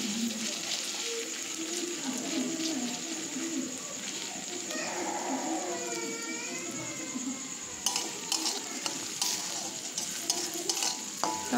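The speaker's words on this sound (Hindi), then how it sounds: "आदा रसुन भालोभावे भाजा भाजा, तो लाल लाल करे भाजा हुए गेले" Ginger-garlic paste and onions fry in a pan, giving a steady soft sizzle with stirring scrapes, while pigeons coo faintly in the background and a voice talks now and then.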